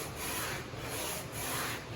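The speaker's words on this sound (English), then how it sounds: "This sanding beam has 60 grit in it." A 60-grit sanding beam scrubs back and forth along a wooden guitar fretboard, making close, coarse rasping strokes in a steady rhythm with no voices.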